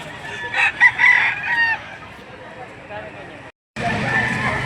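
A young rooster, a stag with red face and yellow legs, crows in a rough, cracking voice at a livestock auction market in Lipa City, Batangas, followed by a busy crowd murmur nearby.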